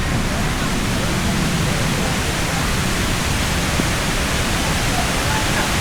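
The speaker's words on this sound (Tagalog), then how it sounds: "What? Waterfall? Waterfall?" A waterfall at Kathu in Phuket, Thailand, roars as a dense, steady broadband rush that stays constant and loud throughout, close by, with no distinct changes.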